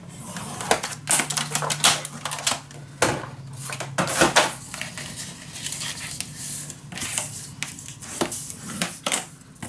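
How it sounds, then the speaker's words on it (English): Paper for a scrapbook page is scored and then cut, giving a close series of irregular sharp clicks, taps and scraping strokes with short pauses between them, and no talking. "I always like to score first before I cut it down."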